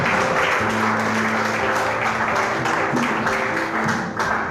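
A church congregation applauds the Lord at a French and Wolof worship service, a dense, continuous wash of clapping and voices that stays loud and steady throughout.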